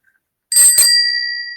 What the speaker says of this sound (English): Oh, the doorbell rang.